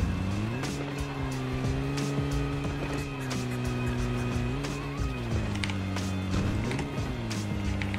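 A car engine drones steadily in a video game, its pitch climbing and dipping as it accelerates and eases off, with scattered clicks and bumps over the continuous hum.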